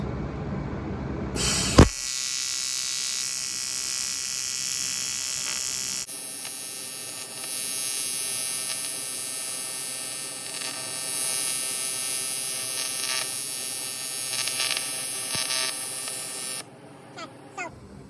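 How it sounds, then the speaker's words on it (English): A welding torch works on a cracked wheel with filler rod, giving a steady, close hiss and hum that holds for around fifteen seconds after a sharp click, then cuts off near the end. "Get my filler rod. my torch, and we'll get welding on this."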